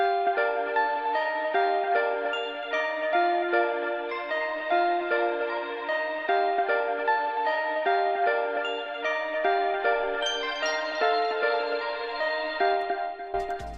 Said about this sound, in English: But for me, I'm using this pluck out of Omni, and I went ahead and came up with this melody.